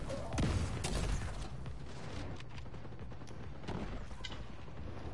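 Gunfire from Tom Clancy's The Division 2 during a fight in the Hugh Carey Tunnel, a dense, steady barrage of shots with booming low impacts, loud and continuous throughout.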